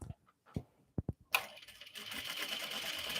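A few faint clicks and taps come first, then a sewing machine starts stitching fabric in a steady rapid whir that runs on to the end, close and fairly quiet.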